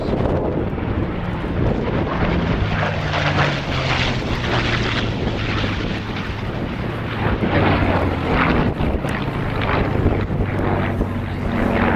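A Bristol Blenheim aircraft flies at an air display at Bicester, its engine drone loud and continuous with heavy wind buffeting throughout.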